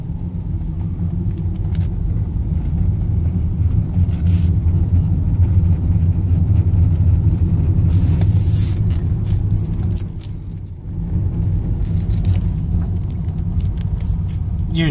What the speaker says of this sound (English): I'll go let you hear the shifting gears.